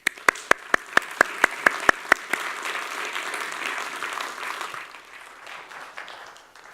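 An audience applauds to welcome a speaker onto the stage at a presentation on Brexit. A few sharp, evenly spaced claps come first, then broader steady applause that fades out.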